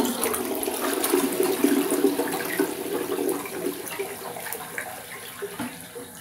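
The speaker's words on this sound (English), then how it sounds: "Three flushes." A slow-flushing toilet is flushed, a loud rushing gurgle of water that peaks early and then drains down to a softer trickling wash, close by with no talking.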